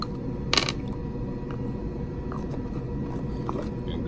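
A silver dollar coin ring is lifted out of a jewelry cleaner, giving one sharp metallic clink early on, then only a quiet low background hum.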